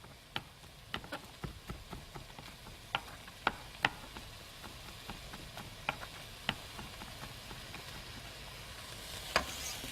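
Two cloves of fresh garlic sizzle in a pan for a Cajun Alfredo-style pasta sauce, a steady close frying hiss broken by sharp clicks and taps of a utensil stirring against the pan.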